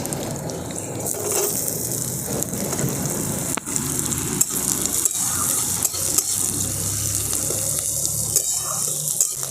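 Chopped onions sizzle and fry steadily in a pan of hot oil with curry leaves, a close, continuous crackle broken by the clatter of stirring, with no talking.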